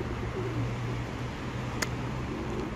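Pigeons in a coop coo softly in low, repeated murmurs under a steady wash of background noise, with one sharp click partway through.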